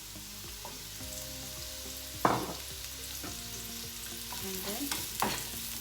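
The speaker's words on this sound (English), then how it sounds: "the pan is hot, the oil is hot. Now I'm going to put mushroom." Mushrooms go into hot oil in a pan and sizzle steadily, with scraping stir strokes and a few louder clatters against the pan; a brief voice is heard.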